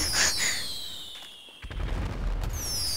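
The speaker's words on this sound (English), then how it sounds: "The firework launcher ammo is cheap." Fireworks from a firework launcher in GTA 5 burst with whistling rising trails and crackling pops, then a deep boom follows after a brief lull, with more whistles after it. No voices come through.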